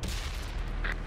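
Incoming tank gunfire in the World of Tanks video game: a loud, dense burst of shots and impacts crackling over a heavy low rumble, lasting about a second, with no talking.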